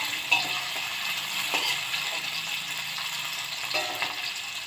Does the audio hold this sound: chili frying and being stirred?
yes